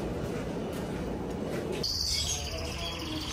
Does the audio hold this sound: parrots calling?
yes